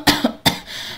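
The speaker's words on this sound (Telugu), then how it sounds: "దగ్గుతూ," A sick, tearful mother gives a quick run of harsh, close coughs, about three in under a second, with no talk.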